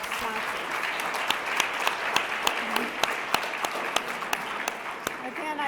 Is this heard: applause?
yes